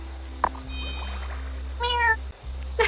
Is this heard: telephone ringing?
no